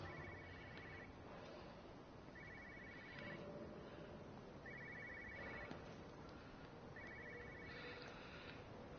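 A telephone rings in the video game Everybody's Gone to the Rapture, in repeated double bursts, four rings spaced a couple of seconds apart, over a steady low background hum.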